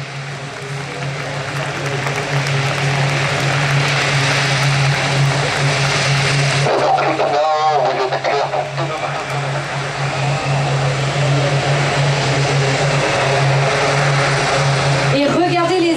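A Hawkeye propeller aircraft taxiing at an air show drones loudly close by with a constant low hum as its wings fold, while a voice talks over it.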